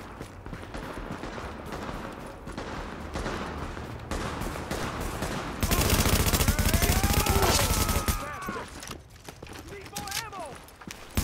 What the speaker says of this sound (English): Warning, supplies taking fire.